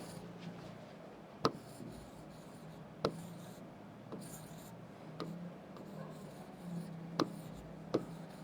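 Pen writing by hand on paper for exam practice, a soft continuous scratching punctuated by several sharp taps as the pen strikes down, close and quiet with no voices.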